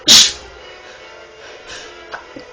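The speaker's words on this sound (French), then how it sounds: "C'est ce qui s'appelle éternuer en pleine vidéo." A single sharp sneeze bursts out at the start, then a quiet room with a couple of faint clicks.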